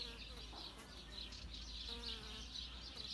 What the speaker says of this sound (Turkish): Arılar dışarıda kendini temizlemeye çalışıyor e, dumandan.